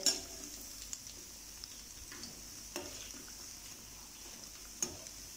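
Pakoras fry in oil in a pan with a quiet, steady background sizzle, broken by a few sharp utensil clicks and taps against the pan.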